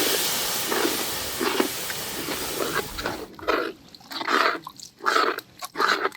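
Prawn curry gravy bubbling in a pot, a steady close hiss and sizzle that drops after about three seconds into separate rhythmic bursts of boiling.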